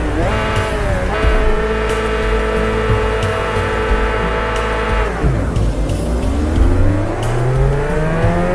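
A loud, steady ZX7RR motorbike engine roar in the game Ride 2 at the Nürburgring, with rising and falling pitch as it revs and shifts, droning continuously throughout with no talking.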